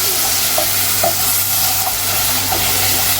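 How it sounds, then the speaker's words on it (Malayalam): Mustard seeds and spice powders fry with a constant bright sizzle in a pan for a soybean curry, while a spoon stirs them with a few soft scraping taps. "നമ്മൾ കടു വറുത്തിട്ട സാധനത്തിനകത്ത് പൊടി ഐറ്റംസും ഇട്ടു"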